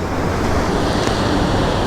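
Sea waves wash onto a beach in Quy Nhon, Vietnam, a loud continuous surf roar mixed with wind buffeting the microphone.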